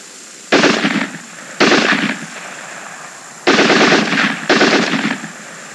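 Machine gun firing four separate bursts of rapid shots, loud and close, each burst about half a second long with pauses between.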